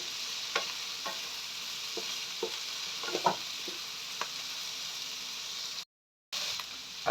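Vegetables sizzle steadily in a pan for pancit canton gisado, with a continuous frying hiss and scattered clinks and scrapes of a utensil stirring and lifting them out.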